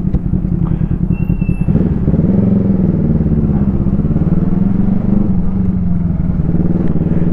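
A Kawasaki ER5 motorcycle with a slipping clutch drones loudly up close, the engine pitch climbing as it revs and then holding a steady, throbbing note.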